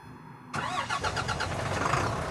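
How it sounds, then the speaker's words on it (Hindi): Diesel truck engine in Truck Simulator 2018 Europe cranks and catches, then settles into a steady, fairly loud rumbling idle that runs alone to the end. "पहले गाड़ी ट्रक तो चालू करो, अभी आवाज़ सुनो"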